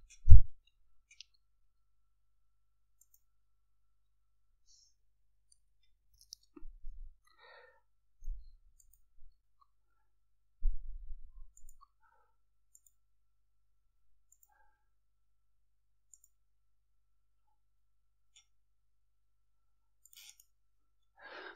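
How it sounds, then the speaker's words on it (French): Computer mouse clicks while drawing a spline in MediaCad-JardiCad garden design software: a few soft, isolated clicks, one near the start and small clusters later, with long quiet gaps between them. "je fais un clic gauche suivi d'un clic droit pour terminer la spline"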